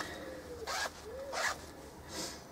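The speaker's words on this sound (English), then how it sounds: "Both my zips work fine." Zippers on a handmade leather handbag are pulled open and shut in three quick, close zipping strokes, each a short bright rasp, with a quiet room and no talking.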